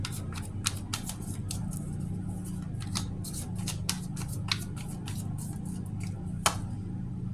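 Tarot cards are shuffled for a reading, producing a series of sharp, crisp riffling snaps at an uneven pace over a low steady background hum, with no talking.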